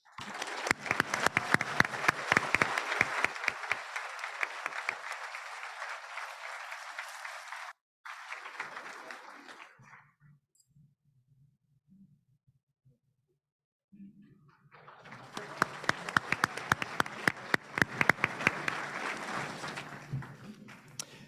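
Audience at a foundation's annual meeting breaking into sustained applause, dense clapping that cuts off abruptly, leaves a quiet gap with a low hum, then swells up again for a second long round.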